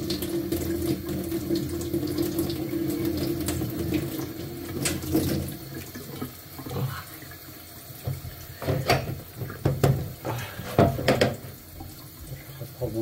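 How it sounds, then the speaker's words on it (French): Tap water runs steadily from a faucet into a sink for several seconds while a face is wetted, then breaks into irregular splashes and handfuls of water; no one talks. "On va d'abord mouiller le visage."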